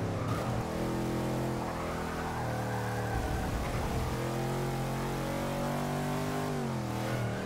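A car engine in the racing game Forza 6, held at a steady, sustained mid-pitched drone under light throttle, then dipping briefly and rising again through a corner, close and continuous with no talking.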